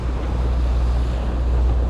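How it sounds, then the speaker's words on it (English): Heavy ocean swell pounds against a sailing yacht racing offshore from Los Angeles to Honolulu, a steady loud roar of water and wind rush with no talk. "the stern of the boat kicked around by these waves"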